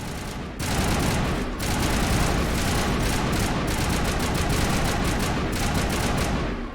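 Sustained, loud rapid-fire rifle bursts from a Mass Effect battle, near and dense with only short breaks between volleys, no voices heard.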